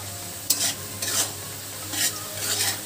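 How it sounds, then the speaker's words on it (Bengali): Onions fry to a reddish brown in a pan for a yogurt chicken dish, a low sizzle under several distinct bursts of stirring and scraping, close up. "এই দেখুন পেঁয়াজ লাল হয়ে এসছে"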